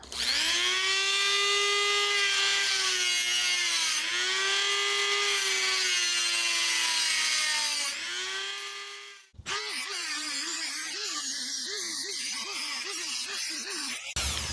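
A Dremel-brand rotary tool with a small cutting wheel grinds at a stuck nut on a pressure washer being converted into an engine stand, giving a loud, close, high whine that dips in pitch under load and then turns into a rougher, wavering grind.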